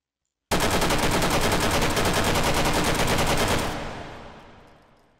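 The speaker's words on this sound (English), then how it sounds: "Let's have some fun in full auto." An STG44 fired on full auto in H3VR, a long sustained rapid string of close, loud shots for about three seconds, then a reverberant tail fading out after the trigger stops.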